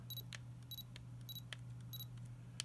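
A Nikon-mount camera with a Leitz Wetzlar Super-Angulon R lens gives four short, high focus-confirmation beeps in a steady rhythm, faint and close, over a low hum and soft clicks of the focusing ring.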